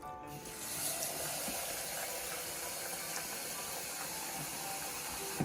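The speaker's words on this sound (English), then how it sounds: "And then I'm just going to go right back in the pan with some fresh water." Fresh water pouring into a pan of soaked hominy being readied for pozole verde, a steady close hiss of running water that continues evenly throughout with no talk.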